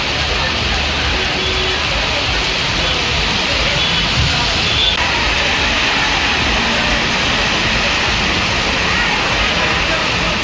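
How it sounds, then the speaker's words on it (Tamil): Heavy evening rain pours down over farmland villages in Tamil Nadu, a dense, steady hiss that stays loud and unbroken throughout, with no voices heard. "மாலையில் கனமழை பொழிந்தது"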